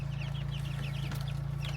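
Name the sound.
chickens clucking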